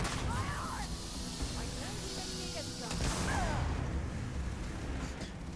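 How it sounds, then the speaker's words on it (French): Gunfire and explosions rumble continuously in a space combat sequence from the video game Starfield, dense and loud throughout with a surge partway through, while someone talks over it. "Explosion."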